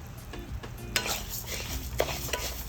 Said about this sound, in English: So I'm going to roast them to a light brown color.